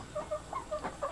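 Chickens pecking through bug-filled feed give a run of soft, short clucks in an uneven rhythm, close and fairly quiet, with no talking.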